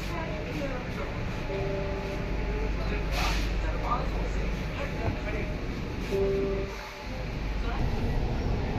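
Kolkata Metro train running between Phoolbagan and Salt Lake Stadium, a steady close rumble and rolling roar of wheels and motors with brief tonal whines, continuous throughout with a short dip near the end.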